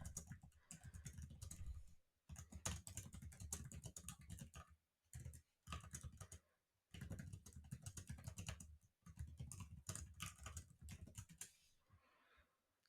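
Typing on a computer keyboard while writing a short message in a web tool, with bursts of rapid key clicks separated by brief pauses, close and clear with no talking.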